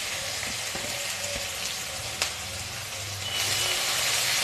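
Chopped onion and bay leaves frying in oil for a Bengali-style mutton and potato curry give a steady, close crackling sizzle. It swells slightly louder toward the end, with no talking.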